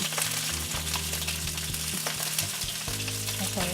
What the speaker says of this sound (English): Clean the splatter so I don't get any oil popping on me.